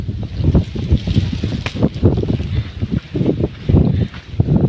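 Strong windstorm wind buffets the microphone in loud, rumbling gusts that rise and fall continuously in a village, with no voices present.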